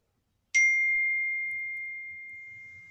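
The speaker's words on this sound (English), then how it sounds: "I heard a bell." A single bright bell strike rings out once after a short silence, then sustains a clear, pure tone that slowly fades over a couple of seconds, with faint low background noise.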